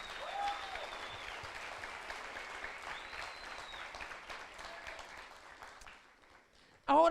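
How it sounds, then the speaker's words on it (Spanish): A church congregation applauds during a sermon, steady moderate clapping with voices mixed in that fades out near the end before a loud voice cuts in. "Vamos, aplauda un poquito mejor."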